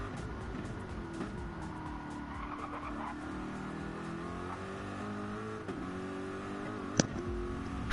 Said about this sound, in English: Corvette versus AMG, both drivers into the first left-hander of Hell's Corner.